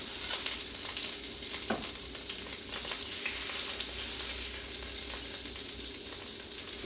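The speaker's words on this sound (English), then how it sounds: "We're gonna take this out and sear it some." Beef short ribs sear in a hot pan, a dense continuous sizzle and crackle with scattered pops and an occasional scrape, close and steady with no talk.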